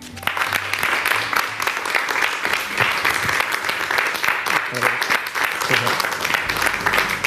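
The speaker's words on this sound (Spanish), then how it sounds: "un aplauso inmenso para Emiliano Apilluelo." Loud, sustained audience applause for a guest collector on a TV interview show, dense continuous clapping with a low musical hum beneath it throughout.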